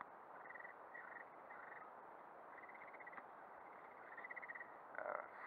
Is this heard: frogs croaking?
yes